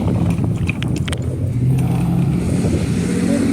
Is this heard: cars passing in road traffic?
yes